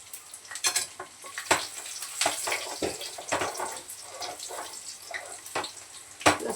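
Stuffed brinjal being sautéed and stirred in a hot pan, a steady sizzle broken by repeated scraping and clattering spoon strokes, close and alone without talk.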